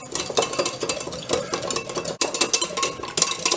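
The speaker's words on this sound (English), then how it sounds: "We're going to whisk this so that it comes out pretty smooth" Whisking a Cuban pork shoulder roast marinade in a bowl: a steady, fast rattling and scraping of whisk against the bowl, fairly loud and close, with no pause and no talk.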